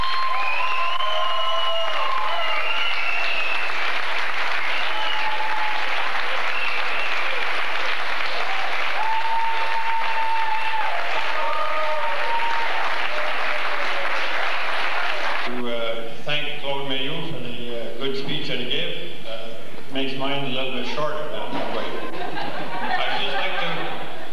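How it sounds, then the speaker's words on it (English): A large audience applauds soldiers of P Battery from Shilo, Manitoba, dense sustained clapping for about fifteen seconds that then gives way to a speaking voice as the applause fades. "I urge everyone to join me in giving a round of applause to these dedicated men and women of P Battery from Shilo, Manitoba."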